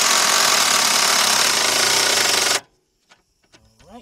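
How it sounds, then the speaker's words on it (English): A Butterfly air impact gun tightens motor mount bolts on a 2003 Honda Accord 3.0, a loud continuous rattling burst for over two seconds, then abrupt quiet with a few faint clicks and handling noises. "And I'm gonna be using my Butterfly air gun. Let's go ahead and tighten those 2 bolts up."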